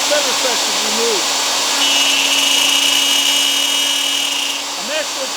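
Router with a 1/4 inch bit cutting a circle in figured black walnut: a loud, steady high whine from the spinning bit, with a voice talking over it at the start and end.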